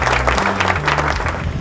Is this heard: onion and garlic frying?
no